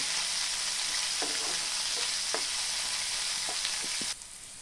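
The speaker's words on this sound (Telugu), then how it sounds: "వీటన్నిటిని దోరగా వేయించుకోవాలి మనం కట్ చేసి పెట్టుకున్న ఆనియన్స్ బాగా కలుపుకోవాలి" Chopped onions frying in hot oil with mustard seeds, a loud, even sizzle up close with a few scraping stirs of a spoon in the pan, the hiss dropping off sharply near the end.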